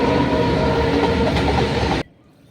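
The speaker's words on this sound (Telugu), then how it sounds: "ఏదన్నా వీడియో చేద్దామంటే చాలు ట్రైన్ వచ్చేస్తుంది." A train rumbles and rattles past close by, loud and continuous, then cuts off abruptly, leaving only faint background noise.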